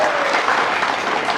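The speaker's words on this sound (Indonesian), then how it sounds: "Tepuk tangan." An audience at a vice-presidential debate preparation event claps in a dense, loud, continuous burst of applause.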